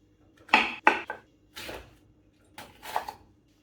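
A knife chops capsicum into square pieces on a board in a home kitchen, five separate close thuds and knocks spaced irregularly, with quiet pauses between them and no speech.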